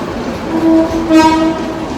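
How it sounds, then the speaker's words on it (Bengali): Balaka Commuter local train hauled by locomotive 2411, loud and close, with rolling rumble and a horn-like tonal blast rising near the middle of the short pass. "এই দেখেন বলাকা কমিউটার চব্বিশশো এগারো নাম্বার লোকোমোটিভ নিয়ে"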